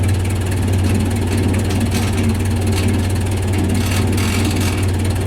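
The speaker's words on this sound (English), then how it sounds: "Barely started the engine." A Case 580B backhoe's diesel engine idles cold just after starting, a loud, close, steady low rumble with rapid even pulsing and some rattling, with no talking.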